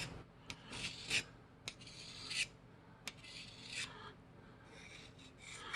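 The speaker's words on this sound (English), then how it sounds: "Let's just dull it on the other Work Sharp sharpener" A knife is dragged across a Work Sharp sharpener in a series of faint, close rasping strokes with short scraping pulses separated by brief pauses.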